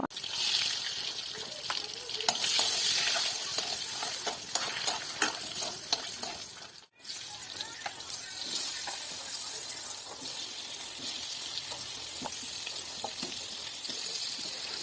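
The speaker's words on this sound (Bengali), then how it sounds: "একে একে ডিম ও আলু ভালোভাবে ভেজে নেব" Hot mustard oil sizzles steadily as eggs and potatoes fry in a pan, with scattered crackles and stirring scrapes and a brief drop in sound midway.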